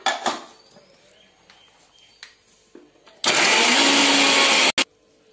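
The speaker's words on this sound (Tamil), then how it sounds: "இஞ்சி பூண்டு இப்ப அரைச்சி எடுத்துட்டோம்." A mixer grinder whirs loudly as it grinds ginger and garlic in a village kitchen, a sustained roaring burst of about a second and a half after scattered clinks and handling, then cutting off abruptly with a brief restart.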